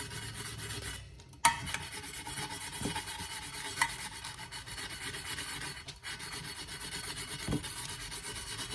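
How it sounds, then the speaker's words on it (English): Sandpaper of 80 grit rubbing around the rim of a stainless steel tumbler, a soft continuous rasping scrape held at an angle, steady and close with a couple of sharper knocks. "I'll go a little more gentle with 80 grit sandpaper"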